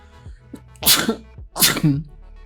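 A man sneezes twice in a row, close and loud, each sneeze a sharp burst after a short intake of breath.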